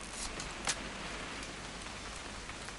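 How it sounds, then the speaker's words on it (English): Steady rain pours throughout a video game hunting-trip scene, a dense even hiss with a brief louder patter near the start, no voices. "It's gonna rain the whole weekend, isn't it?"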